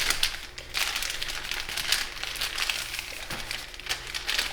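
Origami paper crinkles and rustles steadily while being folded into Satoshi Kamiya's fiddler crab, close and fairly quiet with repeated soft crackling bursts and no talking.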